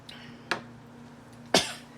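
Two short, dry coughs about a second apart, close and fairly sharp, over quiet background hum.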